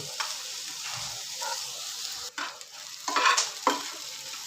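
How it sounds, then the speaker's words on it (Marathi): Onion, curry leaves and green chili sizzle in hot oil in a pan, with a spoon stirring and scraping in several uneven strokes over a steady frying hiss. "कांदा, कढीपत्ता, मिरची चांगली परतून घेऊ"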